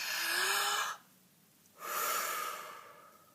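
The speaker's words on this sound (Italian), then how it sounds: "facciamo un bel respiro profondo in modo tale da inalare quanta più aria possibile dalla bocca" A deep breath is drawn in through the mouth, a close, airy inhale followed by a pause of silence and a second long, breathy pull of air, with no talking.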